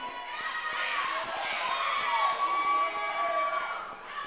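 A wrestling crowd at an AIWF Mid Atlantic independent show cheers and shouts continuously, a dense roar filling the arena with whistles and children's yells mixed in.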